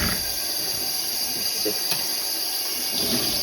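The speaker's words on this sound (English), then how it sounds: "This is just cold tap water that I'm using at the moment." Cold water runs from a tap as dyed yarn is rinsed, giving a steady, moderately quiet hiss with a few faint knocks and splashes.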